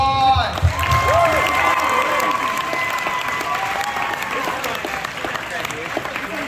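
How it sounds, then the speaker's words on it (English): A high school assembly audience for Indigenous People's History Month breaks into loud, sustained applause from a large crowd, with scattered cheers and whoops over the clapping. "Round of applause."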